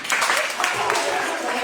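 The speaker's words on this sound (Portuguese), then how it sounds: "Vamos aplaudir bonito." Members of a church congregation at a Tuesday service clap together in a brief, moderately loud burst of applause, with voices mixed in underneath.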